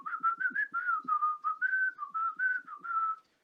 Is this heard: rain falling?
no